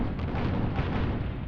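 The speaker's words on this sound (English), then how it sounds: "you can really make out where that gunfire is coming from" Dense, rumbling bursts of gunfire in the video game Guns of Icarus Online blur together into a continuous low roar, steady and fairly loud throughout with no voices.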